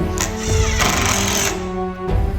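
A DeWalt cordless drill driving screws, a loud, close motor whir in short bursts with a brief pause near the end, no voices present.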